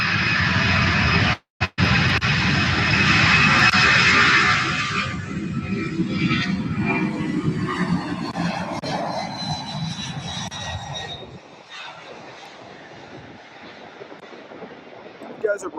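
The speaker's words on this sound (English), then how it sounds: "ABX 5794, service to Lubbock, Texas, getting its takeoff roll on runway 17 right, 762." A Boeing 767 cargo jet of ABX accelerates down runway 17 right at SDF airport on its takeoff roll bound for Lubbock, Texas, a loud, steady engine roar that thins and fades after about eleven seconds, with talk over it.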